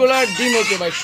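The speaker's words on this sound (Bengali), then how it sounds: "আপনারা হয়তো মুরগির ডাক শুনছেন আজকে" Golden Sebright chickens, a pair of fancy hens, clucking and calling in a quick series of short, close, fairly loud notes with rising and falling pitch.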